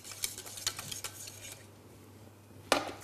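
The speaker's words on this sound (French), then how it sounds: "je mélange bien mon Euromousse, mon Europana avec mon lait" Strawberry mousse mixture being stirred with milk in a pot, giving a few light utensil clinks and scrapes against the container, with a louder clatter near the end, faint and close.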